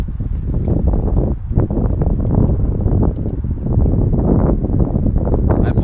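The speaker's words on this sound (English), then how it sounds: "I apologize for the wind." Heavy wind buffeting a microphone outdoors beside a car, loud irregular low rumbling gusts that fill the whole stretch with no clear speech.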